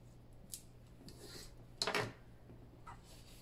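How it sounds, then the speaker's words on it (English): Tape backing peeled from a paper booklet gives short dry crinkles and one brief louder tearing rasp, faint and close in a quiet room. "I'm going to peel the tape backing away a little bit here on the short side so we can stick that bottom flap on it"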